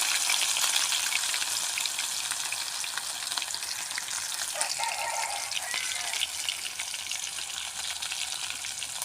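Ingredients for masala chapati sizzle and fry steadily in a pan in a village kitchen, a continuous bright crackling hiss with no pauses and no talking.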